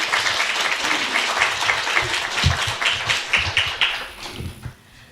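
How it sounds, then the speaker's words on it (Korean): A church congregation gives warm welcoming applause for a visiting missionary, a steady wash of many hands clapping close by that tapers off at the end. "환영합니다 뜻에서 환영 박수 하겠습니다"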